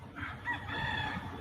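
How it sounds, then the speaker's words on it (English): A rooster crows outside the federal courthouse in downtown Miami, one drawn-out call heard from a short distance over low street rumble. "Well, there is a rooster."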